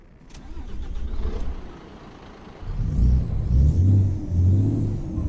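A 1994 Volvo NH12 truck engine in American Truck Simulator cranks and starts, a low diesel rumble building loudly after a few seconds and settling into a steady, throbbing idle with slight revs.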